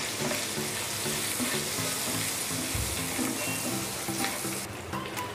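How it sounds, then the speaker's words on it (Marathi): Whole cumin, cloves, cinnamon sticks, bay leaves and a large cardamom sauté in hot oil with a loud, continuous sizzle that holds steady throughout. "हे सगळं आपल्याला खडा मसाला व्यवस्थित परतवून घ्यायचा"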